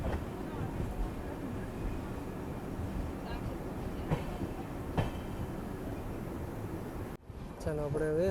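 The Okha Veraval Express departs Virpur station, a steady low rumble and rattle of the moving train heard from inside a carriage, with faint voices and a brief dropout near the end.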